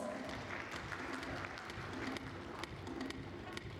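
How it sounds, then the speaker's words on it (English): An audience at a food safety conference applauds a speaker, dense steady clapping from a mid-sized crowd, moderately distant and somewhat faint, with no speech over it. "Can we have a huge round of applause?"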